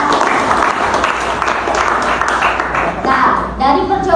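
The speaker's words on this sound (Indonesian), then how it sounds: "berikan tepuk tangan kepada Bima." Students applaud in a classroom during a lesson on capacitors, with a short burst of clapping that fades as a voice starts talking toward the end.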